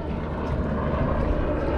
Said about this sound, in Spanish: Perdonen que está pasando un helicóptero.